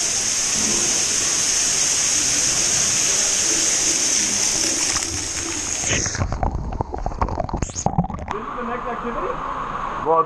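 Water from a rinse station at a Xenses park in Playa del Carmen, a loud steady rushing spray that cuts out midway into irregular splashes and drips as slimy sludge is rinsed off, with people talking over it.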